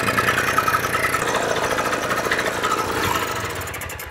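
A Sachs 503 engine idles steadily and loudly throughout, a continuous close mechanical drone with a slightly uneven, knocking pulse.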